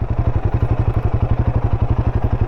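Royal Enfield Himalayan motorcycles riding on near Pune, a close, loud engine thumping in a steady rapid rhythm with clattering mechanical noise, no voices.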